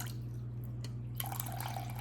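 Water poured into a bowl set on a zeroed kitchen scale while measuring 350 grams for sourdough bread dough, a soft close trickle and splash over a steady low hum, with no talking.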